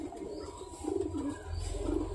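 Domestic pigeons cooing close by in a steady low murmur, with soft rustling and a faint chirp.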